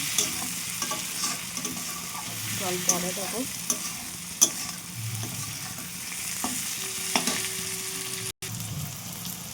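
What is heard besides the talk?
stirring and frying green chillies in a pan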